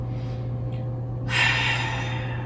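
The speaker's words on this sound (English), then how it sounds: "pumping the abdomen in, pushing the exhales out through the nose" Forceful breaths are pushed out through the nose during a yoga breathing exercise, the abdomen pumping in, a sharp huffing exhale rising over a low steady hum, close to the listener.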